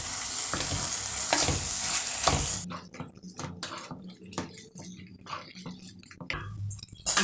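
Green chillies and finely chopped tomatoes sizzling and frying in a pan for a village-style Tamil fish curry, a loud steady hiss at first, then quieter crackling broken by intermittent stirring and scraping.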